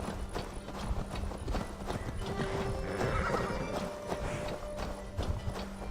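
Horse hooves clip-clopping at a gallop with repeated neighs and whinnies, steady and close throughout, from Assassin's Creed Valhalla gameplay.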